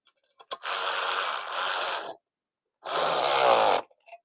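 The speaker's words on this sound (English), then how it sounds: "We can tighten them down a little bit." Bolts are tightened on a Bauer cement mixer in two close, loud bursts of rapid ratcheting power-tool whirring, the first about one and a half seconds long and the second shorter, separated by silence.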